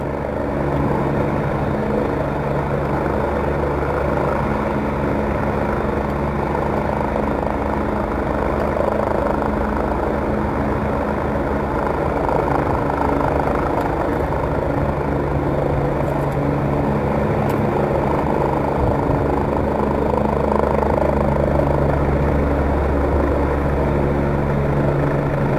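A rescue helicopter hovers close by, its rotor and engine making a loud, steady, unbroken drone with no voices heard.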